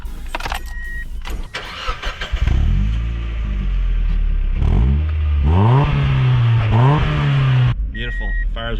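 A Mazda MX5 Miata NB is started with a key: a brief cranking whir, then the engine catches and settles into a steady, slightly rising idle, loud and close.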